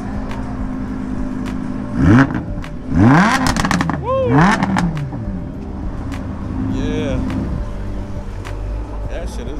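A Lamborghini Huracan with a loud exhaust revs in short aggressive bursts amid a crowd outdoors, engine roaring close then settling to an idle rumble while people talk and one voice cheers.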